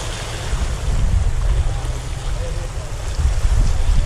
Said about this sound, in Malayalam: വെള്ളം നല്ല ഇളക്കം കൂടുന്നു കേട്ടോ.